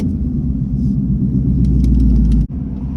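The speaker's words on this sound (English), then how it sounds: "this is going to be trans brake and two-step. Take one. Stage one." Ford Mustang S550 GT on a trans brake and two-step, a loud, steady, deep engine rumble held close up for nearly the whole stretch, cutting out abruptly near the end before resuming.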